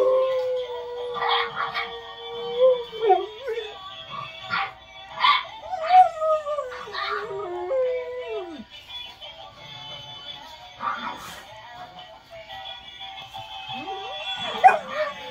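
A Boxer dog howls indoors with long wavering, rising and falling tones mixed with yips and whimpers, close and fairly loud, with faint background sounds.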